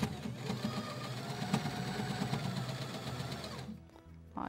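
A sewing machine stitches a dish towel with a steady, close whirring hum that runs for nearly four seconds, then stops abruptly, followed by faint handling noises.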